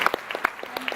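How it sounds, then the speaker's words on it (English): Convention crowd applauding a group of kids, individual claps distinct and fairly close in a brief uneven patter. "I like serious round of applause for all these kids"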